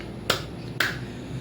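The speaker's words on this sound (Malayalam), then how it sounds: "ജസ്റ്റ് ഇങ്ങനെ ക്ലാപ്പ് ചെയ്ത് കൊടുക്കുക" Two sharp, close hand claps about half a second apart in a quiet room, each a crisp single slap with a short fade.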